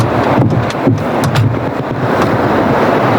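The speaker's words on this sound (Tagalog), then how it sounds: "napakalakas talaga ng hangin na" Strong wind buffets the microphone in loud, rumbling gusts, a constant blustery roar with no voices.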